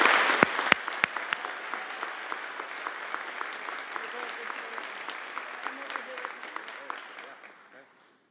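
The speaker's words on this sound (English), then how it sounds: "Let's give him a big round of well-deserved applause." Applause from an audience at a BCIT convocation ceremony, with a few sharp claps starting it, then steady clapping that fades out toward the end.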